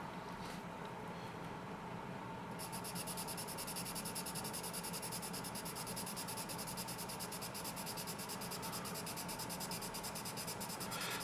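Soft graphite scratching and rubbing from a dark 3B Primo Euro blend pencil, drawn steadily across paper in a continuous gritty texture, close and clear throughout with no talking.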